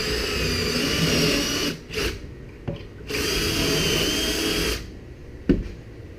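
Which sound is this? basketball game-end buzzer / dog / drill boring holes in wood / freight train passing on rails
drill boring holes in wood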